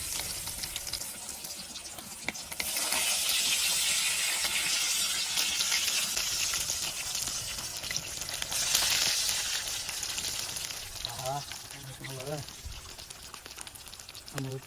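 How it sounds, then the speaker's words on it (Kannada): Fish frying in oil for a North Karnataka-style fish fry, giving a steady, close sizzling hiss that swells after a few seconds and continues throughout. Voices talk briefly near the end. "ಮೀನು ಫ್ರೈ ಮಾಡೋಣ ಬನ್ನಿ. ಎಣ್ಣೆ ಹಾಕೊಂತ ನಮ್ಮ ಬಡೆ ಸಾಬ್ರ. ಎಣ್ಣೆ ಹಾಕಬೇಕು."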